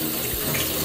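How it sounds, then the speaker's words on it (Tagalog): Water running from a tap into an Airbnb kitchen sink, a brief, steady close splashing rush with no voices. "Okay, may tulo."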